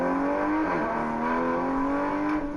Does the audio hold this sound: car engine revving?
yes